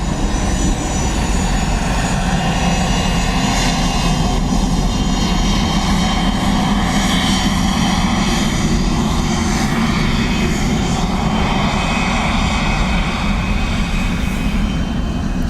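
A jet airliner taking off from runway 10 right at Dublin Airport, a loud, sustained broadband engine roar that stays steady throughout, heard from outside at a distance with no talk.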